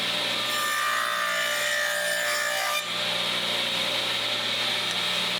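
Steady router or saw cutting a dado into a wooden panel for a bathroom toilet tray, a loud continuous machine whine with a brief dip near the middle before the next pass resumes.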